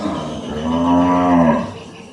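A cow moos once, a long, loud, steady low call rising and fading, at a cattle market where a pair of cows with calves are being sold.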